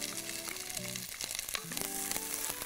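Onions fry in a pan and are stirred constantly: a steady sizzle with scraping stir strokes, heard close, alongside sustained tonal notes.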